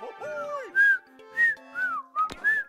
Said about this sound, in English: I would try to whistle along to the theme song